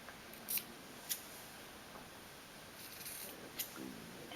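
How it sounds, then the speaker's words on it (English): Scissors cut into a short-sleeved T-shirt: a few quiet, crisp snips spaced irregularly over a soft background hush. "And then we'll cut another one a little bit further up."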